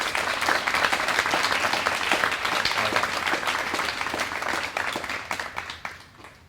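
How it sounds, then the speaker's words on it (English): Audience applause for senior Cum Laude society members at a school honors ceremony, a full, steady round of clapping that gradually thins and tapers off. "I'd ask you for another round of applause for our senior members of Cum Laude."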